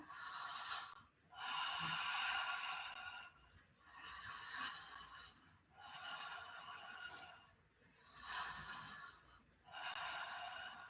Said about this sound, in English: it's conscious connected breathing where you breathe through your mouth